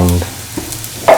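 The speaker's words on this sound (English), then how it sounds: "mix with the ginger, garlic and the mustard" A spoon stirs ground spice powder into ginger, garlic and mustard in a pan, giving a short soft scrape and gentle sizzle after a brief tonal hum at the start.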